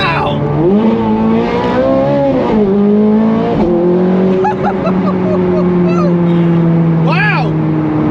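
A Ferrari 430 Scuderia engine revs hard and close, its pitch sweeping up and down and holding at a loud, raspy howl, with brief higher whines and a sharp blip near the end.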